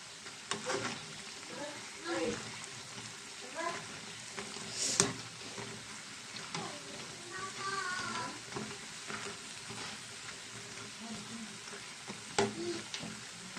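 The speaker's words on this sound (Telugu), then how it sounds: "ఇవి కొంచెం గోల్డ్ కలర్లో వచ్చేదాకా ఫ్రై చేద్దాం" Punugulu fritters made from idli batter deep-frying in hot oil, a steady crackling sizzle with occasional stirring clinks and scrapes, close and moderately quiet throughout.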